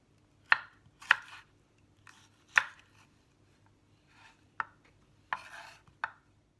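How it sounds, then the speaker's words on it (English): A knife chops a pepper on a cutting board with about seven crisp, sharp strikes at irregular intervals, close and distinct against a faint low background hum, with no talking. "Then you're just going to start chopping your pepper with your knuckles to the blade"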